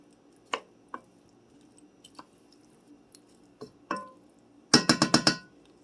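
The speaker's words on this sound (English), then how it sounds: "Let's give this a stir." Smoked kielbasa sausage being stirred in a pot: a few scattered scrapes and clinks of a utensil against the pot, then a quick cluster of five sharp clanks near the end, close and otherwise quiet.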